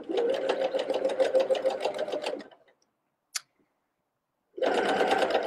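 A sewing machine backstitches a mitten side seam in close, rapid bursts of stitching, running for about two seconds, stopping through a quiet gap with a single click, then starting again.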